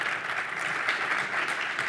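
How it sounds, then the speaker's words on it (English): A seated audience at a Canadian Club panel on disruption in financial services gives the panelists a round of applause. The clapping is steady, dense and sustained at moderate volume, with no voices over it. "round of applause for our panelists"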